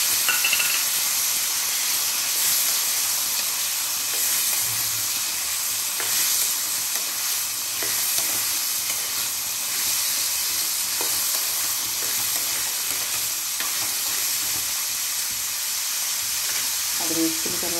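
Kabuli chana tossed into a pan of frying garlic gives a loud, constant sizzle and hiss, with faint stirring knocks now and then and no talking.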